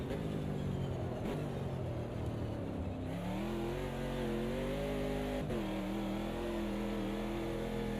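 A Camaro race car in a racing video game, its engine droning steadily then revving up through gears in a continuous, fairly loud tone that climbs and settles, with no voices over it.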